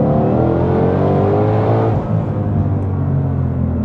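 A 2020 Shelby GT500 with its exhaust in track mode accelerates hard, giving a loud, continuous engine roar with rising harmonic tones and a brief dip partway through, heard from inside the car.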